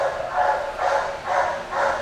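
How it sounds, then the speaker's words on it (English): A dog barks in the background of a home kitchen, four evenly spaced woofs about half a second apart at a steady moderate level. "all you hear is that damn dog barking in the background"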